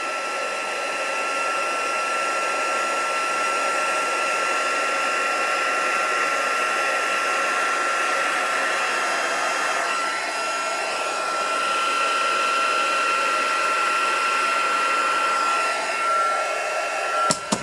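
A heat tool blows hot air in a steady, loud, continuous whoosh with a faint motor whine, running unbroken for over fifteen seconds before a short click at the end.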